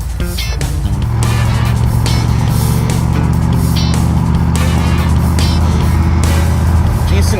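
An overheating junkyard car rumbles along as it heads off toward a racetrack, its engine droning loud and steady close by throughout.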